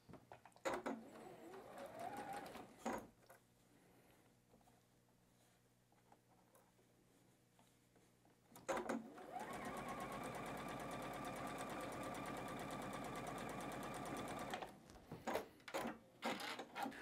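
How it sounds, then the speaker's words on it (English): A sewing machine stitches two quilt block units of batik fabric in one pass, a steady continuous whir lasting several seconds, close and loud, framed by brief handling noises before and after. "we can sew both of these at the same time because one won't affect the other"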